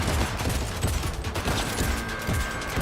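Rapid gunfire from a pistol in Cyberpunk 2077: Phantom Liberty, sharp shots cracking in quick succession over loud, busy game sound with no pauses.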